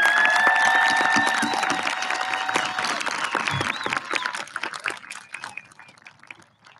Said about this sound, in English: let's have a round of applause for our scholars